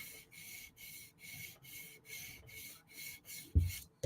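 Rhythmic strokes of a Lynch Titanium Shaman M4 steel blade on a sharpening surface, about nine even, close rubbing passes removing the burr, ending with a louder knock.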